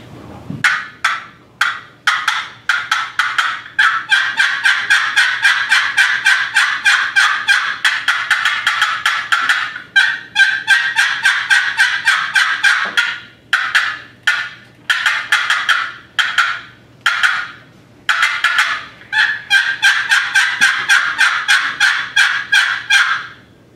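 A friction turkey call at a state calling contest imitates the excited yelp of a hen in long, rapid runs of sharp, loud notes, close and alone, broken by brief pauses.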